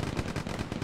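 Gunfire in the World War II shooter Hell Let Loose, a quick burst of several sharp rapid reports in under a second, loud and close.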